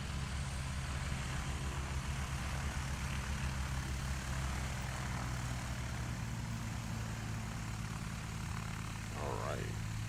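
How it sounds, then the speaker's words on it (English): A STOL propeller airplane flies over Patriot Airpark in Pocola, Oklahoma during a practice day, its steady engine drone continuous and fairly loud throughout, with a faint rising whine near the end and people talking over it. "That aircraft control with Brad Crawford is insanity."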